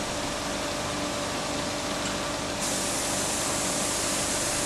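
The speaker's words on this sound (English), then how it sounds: "A flywheel is being painted red." A spray gun coats the flywheel of a Wilesco model steam engine in red paint, producing a continuous, close hiss that grows slightly brighter partway through, with no talking.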